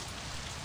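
Rain falling in the Saints Row video game, a brief, steady hiss of dense raindrops at low level with no voices.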